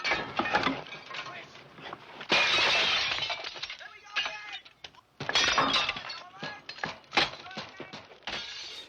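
Eyeglasses shatter in the soundtrack of the 1971 film Straw Dogs, a sharp glass break with tinkling fragments amid several loud bursts and pauses, mixed with voices and other commotion.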